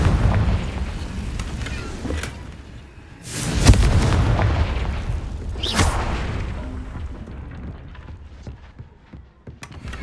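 Fiery Confringo spell blasts in Hogwarts Legacy go off as two loud booming bursts a couple of seconds apart over rumbling game ambience, with no talk.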